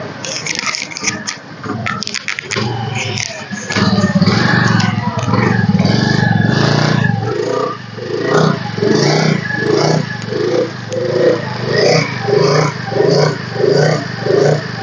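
A 2017 Honda Dio scooter in good condition starts up and revs, its small engine buzzing loud and close with clattering mechanical noise, then settling into rhythmic throttle blips that rise and fall.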